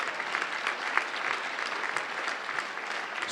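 Audience clapping at a small-business event in Brittany as a local cosmetics maker is introduced, a brief burst of dense, steady applause from a seated crowd with no voices on top.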